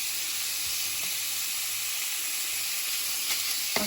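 Steady sizzling of 20% fat lamb mince dry frying in a pan, a continuous close hiss with occasional soft stirring scrapes.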